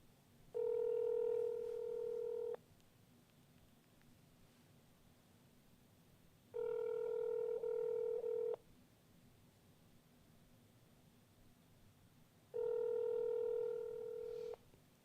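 A telephone line tone comes through a radio call-in show as three long, steady tone bursts, each about two seconds, separated by quiet gaps over a faint hiss.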